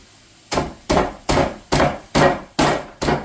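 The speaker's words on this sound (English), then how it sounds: "I have put 225 grams or about 8 ounces of digestive biscuits into a bag, and I've got to break it into pieces" Digestive biscuits sealed in a bag are bashed into pieces: seven evenly spaced, heavy thuds with a short crunchy tail, close and fairly loud, with no voices.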